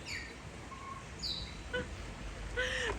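Scattered chirps and whistled calls from birds in an aviary at Tropical Birdland, fairly faint over a dull background hum.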